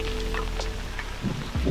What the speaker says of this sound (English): We was greeted first thing in the morning with torrential rain.